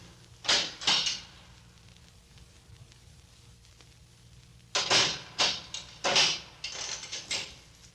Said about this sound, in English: They're unchaining the door.